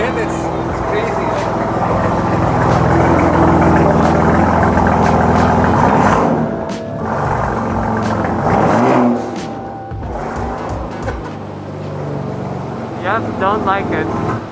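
A 2021 Toyota Supra engine revs loudly and aggressively through a stock exhaust, with repeated rises and falls in pitch, while people talk excitedly over it.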